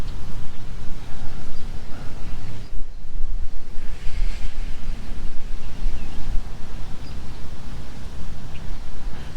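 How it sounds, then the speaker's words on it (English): Stiff wind of about 10 to 15 miles an hour gusts outdoors along a shoreline after a cold front, a loud continuous buffeting roar over the microphone with brief lulls. "Got a good stiff wind going on, probably about 10 to 15 miles an hour."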